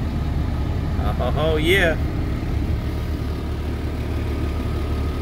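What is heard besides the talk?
2001 Jeep Cherokee XJ 4.0 engine idling with AC on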